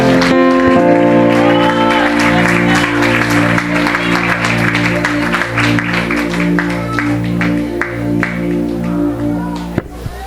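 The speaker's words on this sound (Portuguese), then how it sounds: "Louve mais uma vez ao Senhor com as palmas." A church congregation claps along in praise while sustained music plays beneath, the clapping steady and fairly loud across the whole stretch, with voices mixed into the crowd sound.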